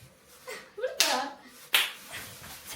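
Two sharp bursts of hand clapping ring out in a room, short and close, after a brief murmur of voices.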